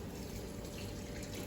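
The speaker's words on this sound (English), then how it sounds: "We are just going to put our hand underneath the water and let the water go downward." Tap water runs continuously over hands during rinsing at a sink, a steady, close splashing hiss with no pauses.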